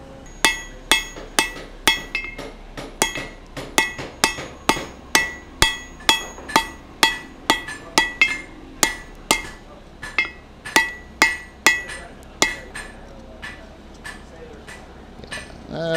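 Hammer blows on hot steel on an anvil while forging a hammer eye drift. The strikes come in a steady run of about thirty ringing clinks, evenly spaced, with occasional short pauses and no talking.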